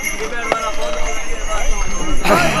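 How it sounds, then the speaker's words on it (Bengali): A pony's hooves clip-clop along the Kedarnath pilgrimage trail at a steady walking rhythm, close by, over a busy outdoor background with a sharper clatter near the end. "আমি এখন ঘোড়ার মধ্যে উঠে রেডি। এটা হচ্ছে আমার ঘোড়াটা।"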